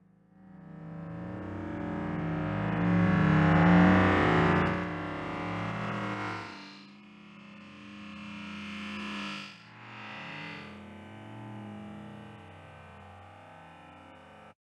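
A sound slowed down ten times, heavily smeared and stretched into a deep, warbling drone that swells, then thins out into lingering tones.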